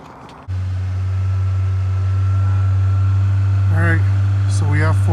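A Toyota Corolla XRS fitted with a swapped Celica C60 limited-slip transmission starts moving off, its engine humming as a steady low drone that swells slightly. Voices speak over it toward the end.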